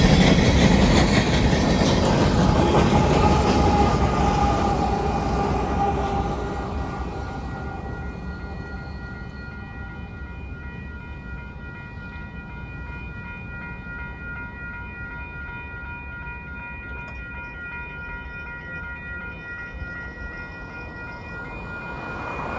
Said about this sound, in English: when I was trying to get that train